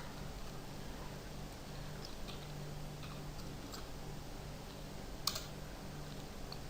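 Keys clacking on a computer keyboard while CSS code is typed, a soft, steady patter of light taps and clicks running throughout, close and low in level under a faint constant hum.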